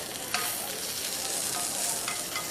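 Onions sizzle loudly on a hot plancha, a dense, continuous frying hiss with a few brief stirring scrapes, close and with no one speaking.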